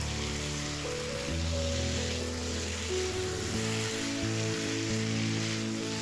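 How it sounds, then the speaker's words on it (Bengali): Chunks of potato and chicken sauté in a hot pan, giving a steady loud sizzle with low scraping and stirring tones shifting underneath throughout, no voices. "এখন আমি চিকেনের সাথে আলুটা কষিয়ে নেব।"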